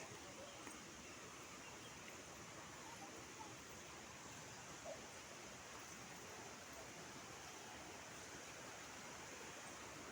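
A continuous, even rush of a flowing stream at Kurangani fills the scene, a steady hiss without pauses, moderately distant and fairly quiet.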